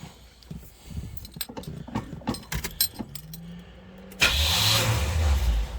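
A 1970 Chevelle or 1971 C10 V8 cold-starts after sitting for over a week: keys jingle and a few clicks, a brief starter whir, then the engine catches abruptly and runs loud and rough close by.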